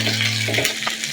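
Ginger, garlic and green chilli sizzle hard in hot oil in a squid roast pan, a loud continuous frying hiss with brief stirring scrapes and a steady low hum underneath.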